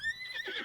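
A horse in Breath of the Wild gives a short, high, wavering whinny, close and clear, lasting under a second.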